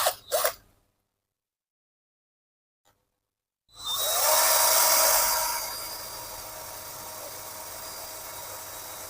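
A cheap G11B1 cordless drill spins up after a short silence and runs steadily at its second speed setting, a loud continuous whirring motor whine that settles slightly in level and holds alone to the end.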